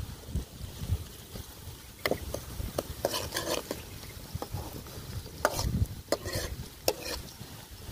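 Onions and seeds frying in a pan while cooking a raw mango shak, a steady sizzle under scattered stirring clatters and scrapes of a utensil against the pan, close up, with no talk.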